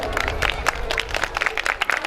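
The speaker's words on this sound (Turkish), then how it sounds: "Bir de alkış alabilir mi lütfen?" A seated audience at a live event gives a short burst of applause, with scattered hand claps mixed in with crowd murmur over about two seconds.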